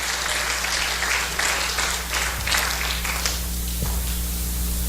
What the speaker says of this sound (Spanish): Dale ese aplauso al Señor, hermano.